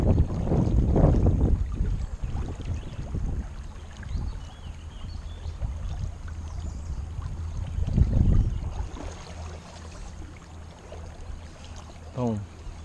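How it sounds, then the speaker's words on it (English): Wind gusting over a river during a fly-fishing outing, a steady rushing roar that swells and fades, with bursts of talk and scattered handling noises. "Here comes the wind."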